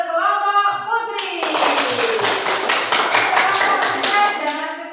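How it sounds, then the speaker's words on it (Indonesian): A group of people clap together for the girls' team after a game at a group event, a dense burst of applause that starts after a moment of talk and keeps going steadily to the end. "Tepuk tangan untuk kelompok putri"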